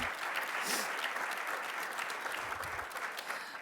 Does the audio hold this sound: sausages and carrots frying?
no